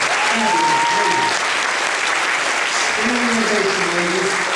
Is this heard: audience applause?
yes